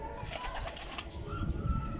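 A high-flying parwazi pigeon beats its wings in a quick fluttering burst of flaps, fairly close, with faint background hiss and no voices.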